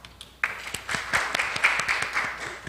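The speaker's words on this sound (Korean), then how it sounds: "큰 박수로 맞이하여 주시기 바랍니다" Audience applause at a data journalism conference session, welcoming the session chair, a reporter from the Korea Economic Daily. It starts abruptly after a brief quiet moment and then runs as a moderate, fairly sparse patter of hand claps with a few sharper individual claps.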